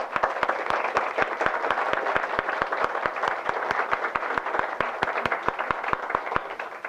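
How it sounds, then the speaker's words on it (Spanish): An audience at a decree presentation applauds Salma from the health commission, steady clapping with a few sharp, distinct claps standing out at regular intervals, moderately distant and fairly even throughout. "Un fuerte aplauso para Salma"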